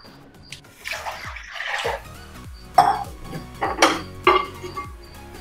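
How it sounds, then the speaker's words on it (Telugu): Water poured into a pot of roasted dal, heard close and fairly loud as splashing bursts, one after another, with clanks of metal vessels and no speech. "ఈ గ్లాస్తో 2 గ్లాసులు నీళ్ళు వేయాలండి"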